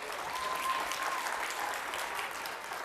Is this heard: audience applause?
yes